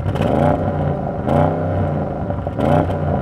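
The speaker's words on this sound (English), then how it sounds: "I'm going to rev up my car" An Audi RS engine is revved repeatedly in quick bursts, each throttle blip rising against a rough idle and falling away, loud and close, with three distinct revs and no speech.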